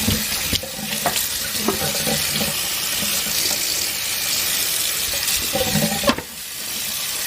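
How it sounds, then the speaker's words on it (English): Brined food rinsed under a running kitchen tap, with a steady broadband rush of water into the sink interrupted by short clinks and splashes as it is handled, close and fairly loud throughout. "you gotta make sure you rinse it really, really well"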